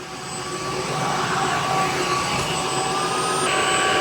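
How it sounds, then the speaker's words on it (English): A Tineco Artist S7 floor mop runs while mopping, giving off a loud, steady motor hum with a high whine, close and continuous, with no talk. "This also works great for everyday mopping."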